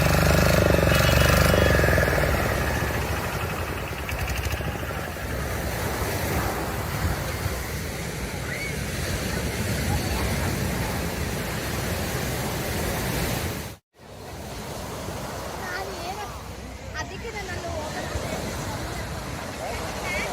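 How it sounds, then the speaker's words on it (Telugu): A continuous roar of surf and wind at Serenity Beach, Pondicherry, broad and steady, with a brief cut of silence partway through. "తాజా గాలి అలల శబ్దం"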